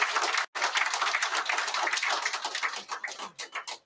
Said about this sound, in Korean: 저의 말씀에 동감하시면 이해하시면 박수 한번 쳐주시기 바랍니다.